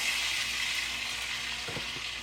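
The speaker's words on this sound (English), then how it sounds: "I'm going to put in my corn now, and maybe you can hear it sizzle a little bit." Corn sizzles steadily in a hot skillet, a soft, continuous crackling hiss, close up, with a few faint scraping knocks near the end.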